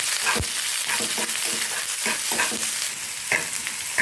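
Garlic, onion and green chillies sauté in hot oil in a pan for spinach greens, a steady close sizzle broken by scraping stirs from a spatula throughout, with no voices.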